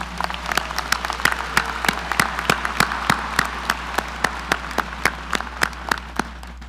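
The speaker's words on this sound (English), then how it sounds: "Join me again in another round of applause." Audience applause at a Del Mar College spring commencement ceremony, a steady wash of many hands clapping with scattered sharper individual claps, sustained and even throughout without pause.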